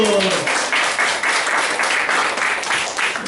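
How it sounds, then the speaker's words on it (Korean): A church congregation at Sunday worship breaks into sustained applause, loud and close, starting just as a voice trails off and then continuing as an even roll of overlapping claps. "박수!"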